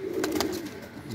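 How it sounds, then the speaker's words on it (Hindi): Soft, low cooing from a pair of teddy pigeons in a short rolling phrase, close by, with a few faint chirps in the background. "आज मैं आपको दिखा रहा हूँ टेडी कबूतर।"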